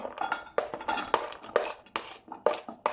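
Cut jackfruit seeds dropped piece by piece into a cooking vessel for a mixed vegetable curry, giving a series of small, sharp clinks and knocks at an irregular pace, close and fairly quiet, with no talking.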